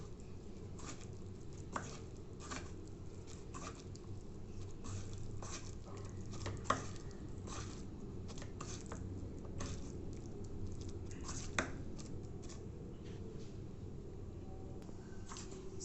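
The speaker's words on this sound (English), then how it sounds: "Okay, so now just mix this properly." Brinjal being mixed by hand with ginger garlic paste: soft, squishy patting and irregular light taps repeat close by for a long stretch, faint and steady with no talk.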